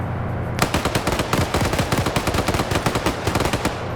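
Machine gun fire in a multiplayer military shooter game, with rapid bursts of loud, close shots in a fast irregular rhythm that run almost without pause after a brief quiet start.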